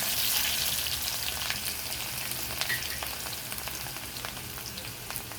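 Crushed garlic sautéing in hot oil crackles and sizzles steadily in a pan, with scattered sharp pops over a continuous hiss, close and fairly loud, no talking.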